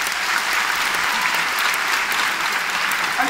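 Dense, continuous applause fills the hall at a university commencement ceremony, a steady close wash of many hands clapping with no gaps.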